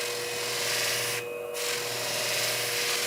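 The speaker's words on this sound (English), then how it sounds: "kiss the edge with my felt pad and not roll over it" A shear blade edge is rubbed against a felt sharpening pad, producing a steady, close, continuous rubbing hiss with one brief pause partway through.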